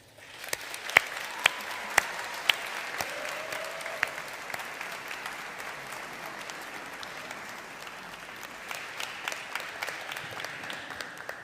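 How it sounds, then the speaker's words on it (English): Graduation ceremony audience at Strathclyde Business School applauding, a steady wash of many hands clapping at moderate level, with a few sharper individual claps standing out near the start, continuing evenly throughout. "let's just take a moment to acknowledge and applaud them for the support they've given you"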